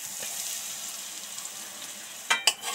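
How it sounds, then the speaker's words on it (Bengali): Asafoetida powder sizzling in hot oil while making a chana dal dish, a soft steady hiss with two sharp louder crackles near the end, close and alone. "তেলের মধ্যে হিঙের গুঁড়ো দিয়ে দেব"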